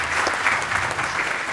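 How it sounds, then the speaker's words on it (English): Audience at the Red Earth 2024 event at the National Cowboy & Western Heritage Museum applauding, a steady, even patter of many hands clapping at moderate loudness with no talk over it. "Let's give her a big round of applause."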